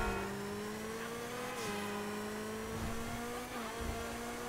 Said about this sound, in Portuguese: Tá acelerando, hein? O carro tá correndo muito.